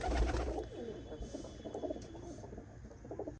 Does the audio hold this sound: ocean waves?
no